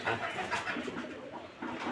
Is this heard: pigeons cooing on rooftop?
yes